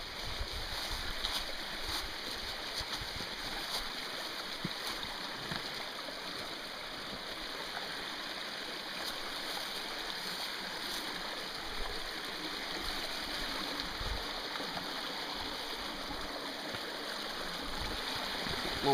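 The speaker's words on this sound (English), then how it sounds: "So there's a little waterfall up there." Rushing water from a small mountain waterfall, a steady broadband wash that stays loud and even throughout with no voices.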